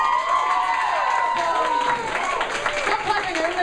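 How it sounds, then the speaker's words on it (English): An audience claps and cheers steadily at an event, a dense wash of applause with excited shouts and whoops running throughout. "Stop clapping"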